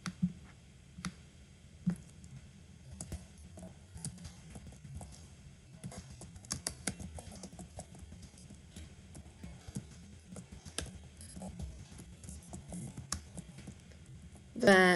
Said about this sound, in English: I'm gonna type those two sentences again.